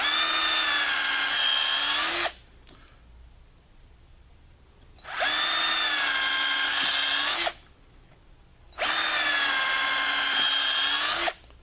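A power drill pre-drills angled holes in wooden sawhorse legs, running in three loud, steady bursts of about two seconds each, separated by short quiet pauses.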